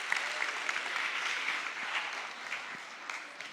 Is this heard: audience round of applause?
yes